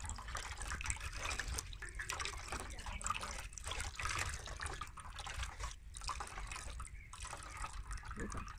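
Water trickles and drips steadily as fresh mozzarella cheese curds are squeezed by hand in a home kitchen, with a soft liquid patter throughout.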